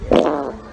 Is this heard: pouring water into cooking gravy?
no